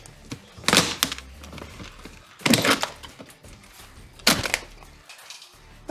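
Interior panels are pried and ripped out of a Corvette C4 during a teardown, three loud cracking, breaking bursts spaced a couple of seconds apart with quieter knocks and rustling between them.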